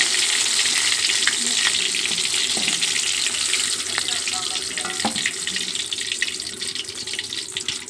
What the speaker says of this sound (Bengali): এখন আমি পেঁয়াজিগুলো ভেজে নেব।